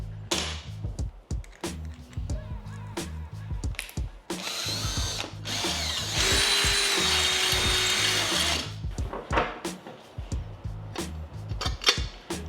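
A corded or cordless power drill enlarges mounting holes for a Toyota truck-bed Packout mount, with a long steady whirring run in the middle framed by shorter bursts, clunks and handling clatter nearby.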